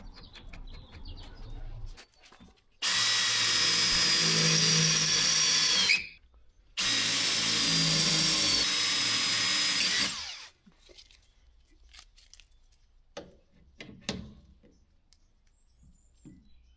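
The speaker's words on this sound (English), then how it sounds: "this is a nutsert tool, and it essentially just puts a threaded insert in a hole" A nutsert tool sets a threaded insert in a blind hole, heard as two loud, sustained bursts of harsh powered whirring separated by a short gap, close up, followed by quieter clicks and handling noises.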